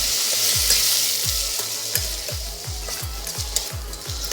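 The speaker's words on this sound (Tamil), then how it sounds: "உப்பு சேர்க்கறதுனால வெங்காயம் சீக்கிரம் வதங்கும்." Onions sautéing with salt in a pan on an induction stove, a steady sizzle under rhythmic scraping strokes of a spoon, about one stroke every half second, close and clear.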